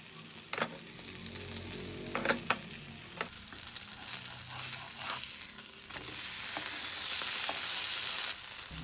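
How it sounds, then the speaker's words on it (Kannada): Marinated fish being fried on a tawa, a steady close sizzle punctuated by several sharp clinks and scrapes of a spatula, the hiss swelling louder toward the end, with no voices. "ಈಗ ನಾವು ಮ್ಯಾರಿನೇಟ್ ಮಾಡಿ ಇಟ್ಕೊಂಡಿರೋಂಥ ಫಿಶ್ನ ತವಾ ಮೇಲೆ ಹಾಕೋಣ"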